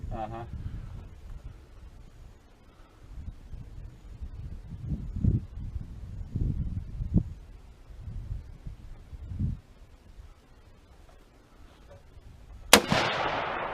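A rifle fires 100 grain bullets at a target outdoors, with a single sharp report near the end following low rumbling handling noise.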